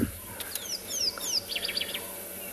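Birdsong on a South African safari morning: a run of clear descending whistles followed by a quicker burst of chirps, fairly near over a low hum of wind and vehicle noise.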